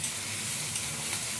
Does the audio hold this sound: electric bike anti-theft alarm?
no